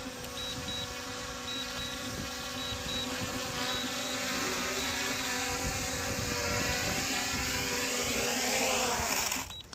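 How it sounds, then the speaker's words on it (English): A small camera drone, a Skyrover X1 with 360° obstacle avoidance, flies back toward the operator and lands on grass, its steady high-pitched propeller buzz and whine holding fairly loud and close before cutting off at the end. "it should just fly right on back here. Here it comes."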